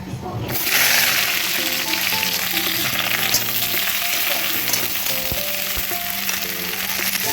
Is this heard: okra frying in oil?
yes